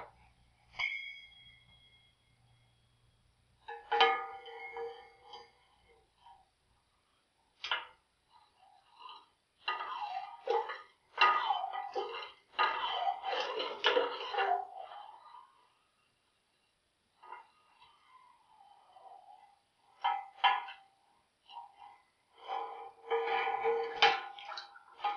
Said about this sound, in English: you use this device to stir the pulp in